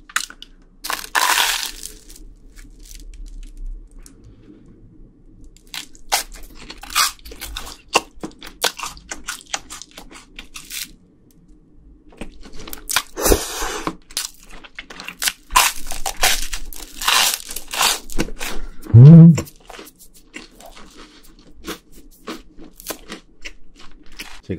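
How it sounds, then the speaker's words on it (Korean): Crunchy bites of rainbow cheese toast, sharp crackling crunches in irregular bursts, close and loud, with quieter chewing pauses between and one brief vocal sound near the end. "먹는데 너무 재밌고 바삭바삭 소리도 좋죠"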